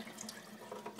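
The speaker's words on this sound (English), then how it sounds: "Hopefully you can hear me over the dishes." Water runs from a tap into a sink while dishes are being washed, making a faint, steady splashing with light clinks. The sound is quiet and continuous.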